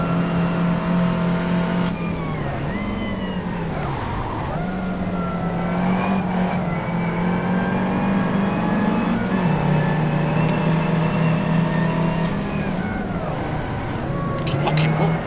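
Seen from the cockpit, an Austin Mini Cooper S race car circles Magione Circuit with its engine droning and rising and falling through the gears. The car is loud and steady, and a voice talks over it throughout.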